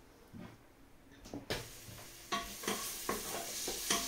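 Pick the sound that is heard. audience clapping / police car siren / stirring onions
stirring onions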